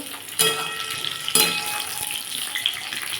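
Pointed gourd fries in hot oil with a steady sizzling hiss, punctuated by two sharp, louder spatters early on, close and continuous throughout.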